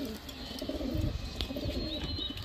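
Madras pigeons coo in a low, rolling, repeated murmur that carries steadily close by throughout, with faint chirps and light background noise around it.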